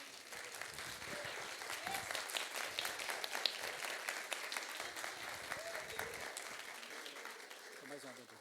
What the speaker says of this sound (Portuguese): dá a melhor salva de palmas que você tem